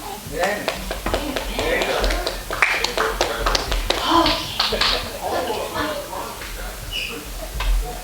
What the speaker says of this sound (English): for us, that is applause